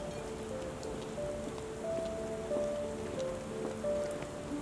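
Steady rain falls throughout a rainy street scene in the Sherlock Holmes The Awakened video game, an even hiss with scattered drops, while faint tonal music hums underneath.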